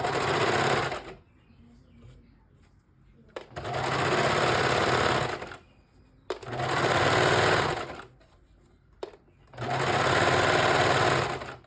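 A sewing machine stitches a tri top garment in four long, steady runs of close, even whirring, each lasting a couple of seconds and separated by quiet pauses.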